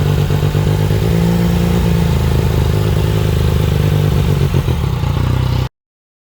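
A Yamaha MT-09 motorcycle engine, mid-service at 20,000 km, idles loudly and close, then picks up with a slight rise in revs before cutting off abruptly near the end.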